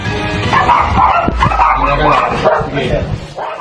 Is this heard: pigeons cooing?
no